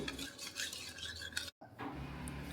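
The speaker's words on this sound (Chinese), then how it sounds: "倒入清水，然後呢攪拌，直至這個蘇打粉呢融化，不能有顆粒" Baking soda stirred into water with a utensil, making continuous close scraping and swishing strokes against the bowl, briefly cut off by a gap of silence before the stirring resumes, while making Guangxi brown sugar steamed cake.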